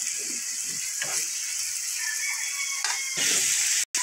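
Potatoes sizzling in a hot pan for a potato and hotdog dish, a steady hiss of frying with occasional clinks and scrapes from stirring, heard close and on its own.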